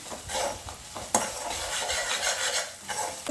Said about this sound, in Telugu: ఇది పచ్చివాసన పోయేదాకా వేగించుకుందాం మనం